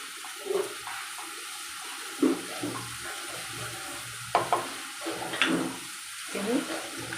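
Vegetables and tomatoes being sautéed in a pressure cooker for pav bhaji, with a soft steady fry beneath several scraping, clinking stirs spread through the clip.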